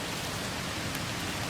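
Steady rain pours down nearby as a dense, even hiss that fills the whole moment without pause, with no other sounds standing out.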